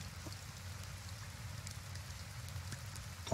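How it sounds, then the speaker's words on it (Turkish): Gentle in-game rain from Tavern Master, a faint even hiss of falling drops with occasional sharper ticks on surfaces, continuous and unaccompanied by speech. "Oyunun başladığından beri 2 günde bir yağmur yağıyor."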